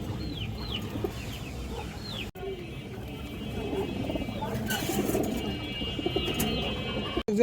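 Chila breed pigeons coo low and steadily in a crowded loft, with sharp chirps from other birds overhead and a murmur of indistinct voices running underneath throughout.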